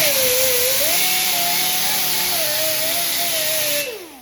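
A disc sander grinds rust off a Galaxian arcade cabinet part down to bare metal, a loud steady whine with a slowly wavering pitch that carries on without a break and then winds down at the end.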